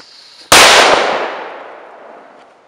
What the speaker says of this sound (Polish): Wrzucimy sobie kolejnego Mephista w trawę,